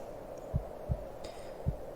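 Human heartbeat heard against a chest, three soft, deep thumps spaced evenly and close, over a quiet low hum, no voices.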